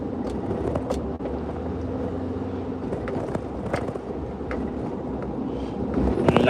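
Inside a car on the road, a steady low rumble of tyre and engine noise runs throughout with faint rattles and clicks, growing slightly louder toward the end.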